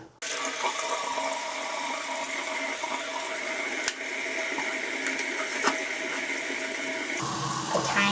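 Shower water runs steadily and close, a continuous broadband hiss of spray lasting several seconds, with a couple of brief knocks and a shift in tone near the end.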